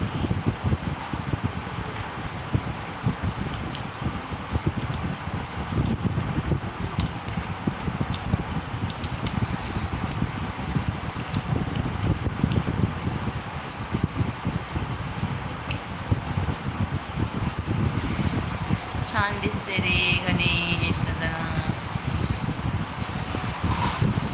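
Steady wind gusting and buffeting the microphone throughout, a continuous low rumble and rush, with a brief brighter rustle near the end.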